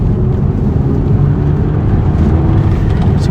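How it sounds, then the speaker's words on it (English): A 2008 Audi TT with the 2.0 TFSI engine is revved out on a fairly straight road, heard as a steady, muffled engine drone from inside the quiet cabin. "I'll give it a bit of a rev out."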